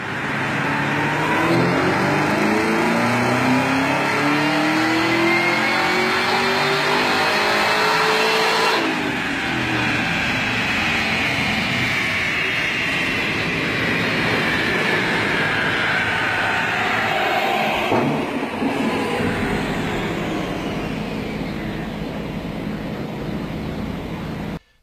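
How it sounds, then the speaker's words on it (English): A tuned 2017 Camaro ZL1 running E85 roars through a full dyno pull, its engine note sweeping steadily upward in pitch, loud and close, then dropping away before a second climbing run near the end. "that is a dyno run of a 2017 ZL1 with E85 and a tune"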